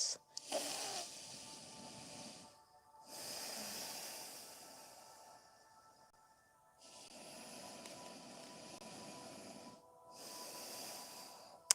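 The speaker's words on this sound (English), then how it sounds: "Take long, deep breaths." Long, deep breaths drawn in and let out during a yoga stretch, four slow airy cycles with short pauses between, close and fairly soft with no talking.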